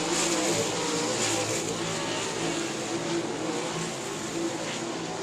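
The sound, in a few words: stock cars racing at South Texas Speedway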